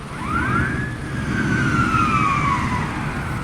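Wailing police siren in a video game, a single loud sweeping tone that climbs and then slowly falls, close and steady over a rumbling background with no talk.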